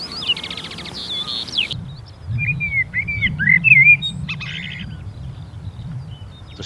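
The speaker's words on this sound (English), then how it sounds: "For many months now, the burrows will be covered by the sound of the glorious skylarks." Skylarks sing over the coastal grassland of Northam Burrows: bright, rapid trilling phrases and warbled chirps, fairly close, over a soft low rumble of wind, with brief pauses between bursts.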